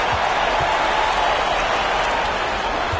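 A dense, steady roar of arena fans cheering at an NBA 2K23 basketball game, continuous and loud for the whole few seconds, with a faint commentator voice mixed in.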